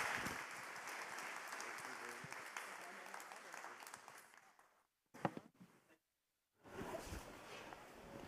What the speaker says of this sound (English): Please give a big round of applause to Russell.